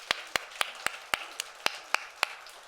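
Applause in a Sunday church service for the Lumina choir, heard as sharp, evenly spaced claps about every quarter second, crisp and fairly faint, with no voices over them.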